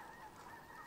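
A startled bird, likely a goose, gives faint, sustained honking calls near a beaver dam, heard quietly and at a distance.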